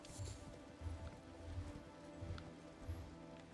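Hoofbeats of a horse galloping in the video game Elden Ring: a steady, rhythmic run of soft, low thuds repeating under faint in-game ambience, fairly quiet throughout.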